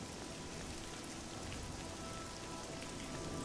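Steady rain patters on surfaces in the town of Cheydinhal in the video game Oblivion, a dense, even hiss of raindrops with no break and no voices.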